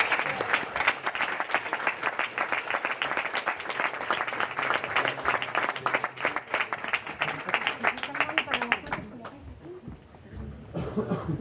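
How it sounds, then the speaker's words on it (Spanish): Sustained, dense audience applause greets the leisure-category winner at an app awards ceremony, lasting about nine seconds before fading into murmuring and a cough. "Un aplauso."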